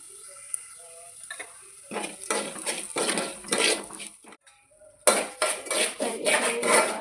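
Lapsi semolina being roasted in ghee in a pan, stirred with a metal spoon: close, busy scraping and clattering against the pan in repeated bursts, with a brief pause midway.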